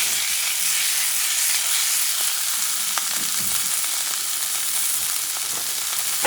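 Flank steak searing in a hot pan with garlic, a loud continuous sizzle with occasional pops and crackles throughout.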